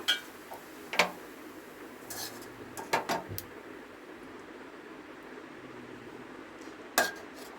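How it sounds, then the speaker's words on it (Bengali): Cooked bottle gourd greens are served onto a plate: a few scattered, sharp clinks of a spoon or ladle against dishware with quiet pauses between them, close and fairly soft. "এবার আমি প্লেটে সার্ভ করে আপনাদেরকে দেখাচ্ছি কেমন হয়েছে এই লাউ শাকের রান্নাটা"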